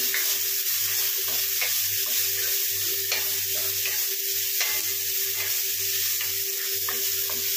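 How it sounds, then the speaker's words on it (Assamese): Tomatoes and green chili are stirred into frying spices, a loud steady sizzle with a repeating low scrape of the spoon against the pan, close and continuous. "ডাইৰেক্ট বিলাহী এইখিনি অলপমান লাৰি ল'ম"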